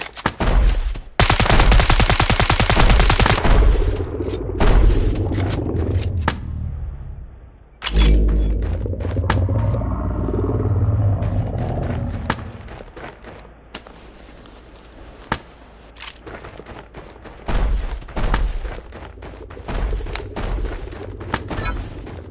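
Rapid automatic gunfire and single shots from a mobile third-person shooter game built on Unreal Engine 4, with dense loud bursts, a booming blast, then scattered sharp shots and short volleys, heard alone without talk.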